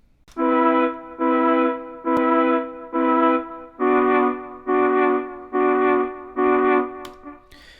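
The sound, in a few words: synthesized flute patch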